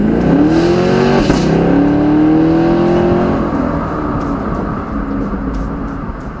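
A Camaro 2SS convertible accelerates hard from a green light, its V8 engine note climbing loudly through rising revs and a gear change before easing into a fading roar.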